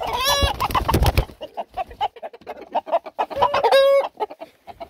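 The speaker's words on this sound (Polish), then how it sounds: "Czy cię nie wpuszcza może ten kogut?" Chickens cluck in a snowy winter coop while a rooster crows loudly at the start and again near the end, with brief scattered clucks between, close to the microphone.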